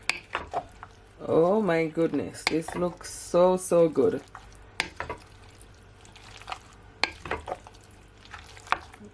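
A spoon stirs pasta salad seasoned with a pinch of salt in a bowl, giving close, repeated scraping and clinking that continues under and after a person's voice.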